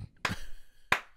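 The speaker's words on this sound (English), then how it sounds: "Slow clap." Two loud, sharp hand claps spaced about two-thirds of a second apart, a slow sarcastic clap given as a couple walks by holding hands at a Pride event.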